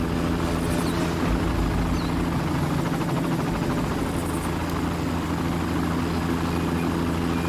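A helicopter in the Far Cry video game drones steadily with a low rotor thrum and engine whine, loud and constant throughout without any talk.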